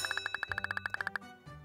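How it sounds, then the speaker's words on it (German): A school bell in the Kindergarten 2 video game rings as a rapid run of about twenty bright, even metallic dings that stops abruptly and leaves a faint low tone, quiet and alone. "die Glocke hat geläutet"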